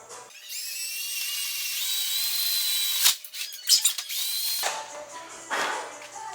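A power drill bores a hole through resin on a BMW E36 overfender. A high, sharp whine rises as the bit cuts, followed by short choppy bursts and a brief final spin-up.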